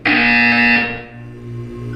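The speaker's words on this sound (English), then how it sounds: "You will hear a buzzer." A loud, harsh electronic buzzer in the video game Portal 2 sounds once, blaring steadily for about a second and then trailing off into a lower hum.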